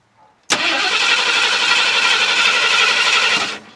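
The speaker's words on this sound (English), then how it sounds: "let's put some gas in it." A 1976 Ford F250 crew cab truck abandoned for 20 years fires up after a short crank and runs in a loud, close, rough steady roar for about three seconds before cutting off abruptly.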